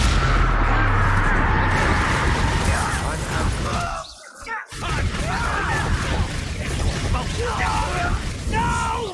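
Confringo fire-spell blasts in Hogwarts Legacy combat: loud, booming bursts and crackling impacts layered over a dense, continuous battle soundtrack, with voices shouting throughout.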